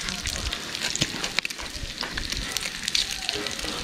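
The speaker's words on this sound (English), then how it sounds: "today we're having bacon and eggs" Steady crackling sizzle of bacon frying in a pan at a campsite, with scattered pops and clicks close by.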